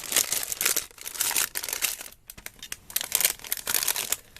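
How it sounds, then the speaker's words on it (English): A small plastic bag crinkles and rustles as an object is handled inside it, bursts of crackling come and go in uneven waves with a short pause midway, close and fairly loud. "I'm going to put it in this little plastic bag."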